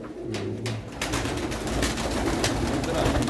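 Pigeons coo steadily in a pigeon loft, a low throaty murmur close by over constant background noise, with no clear talk.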